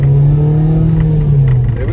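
A Honda Civic DX with a swapped K20Z3 engine revs while driving, a steady loud engine drone holding a strong low tone from inside the car, with no talk over it.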